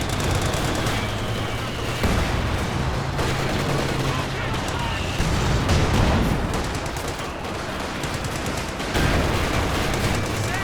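Machine guns rattling in a winter Company of Heroes 2 battle, sustained overlapping bursts with scattered heavier booms, a dense steady wall of battlefield noise with someone talking over it.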